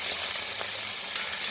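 Bacon frying in a pan during outdoor cooking gives off a dense, even sizzle, loud and close, a short unbroken hiss with no talking.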